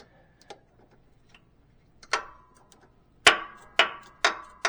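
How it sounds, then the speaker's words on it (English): Wrench breaking torque on bolts of a Mercedes ML air conditioning system, a few faint ticks and then a series of sharp metallic clicks and cracks, close and spaced apart. "we're just going to break torque on these babies without breaking anything"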